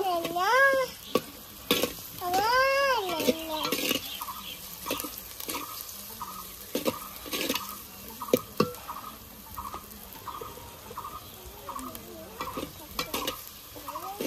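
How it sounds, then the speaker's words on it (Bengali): Spices are sautéed in oil in a pan while a spoon stirs and scrapes, giving a soft sizzle broken by repeated scraping strokes, with a few gliding tonal sounds near the start. "মশলাগুলো ভালো করে কষে নেব।"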